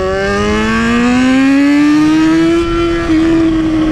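A Yamaha XJ motorcycle with an open exhaust pipe roars loud and close, its engine pitch climbing steadily as it revs for several seconds with no talk over it.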